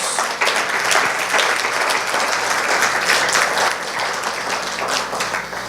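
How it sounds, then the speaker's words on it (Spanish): A large church congregation applauds steadily and loudly throughout, a dense wash of many hands clapping with no pauses. "déle un aplauso al Señor Jesús"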